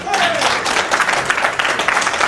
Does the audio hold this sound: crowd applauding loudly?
yes